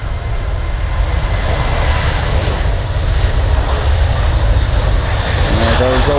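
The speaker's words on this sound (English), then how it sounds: "they are the same aircraft type, Boeing 737s" A Ryanair Boeing 737 departs from Manchester Airport, its jet engines roaring loud and sustained with a broad rumble and a slowly shifting tone, heard from outside near the runway.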